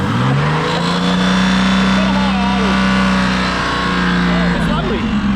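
Barra engine with NOS revving loud and close, holding a sustained high drone that rises and falls, with a voice talking over it.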